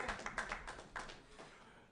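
A few scattered audience members clap at a Bitcoin meetup in Vancouver, a handful of sharp, uneven hand claps close together that quickly thin out into a faint room tone.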